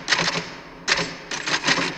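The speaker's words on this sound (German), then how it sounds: "Wenn ich hier sitze und du hörst mich tippen" Typewriter keys clatter in quick bursts of strikes, two clusters separated by a short pause, close and fairly loud with no voices.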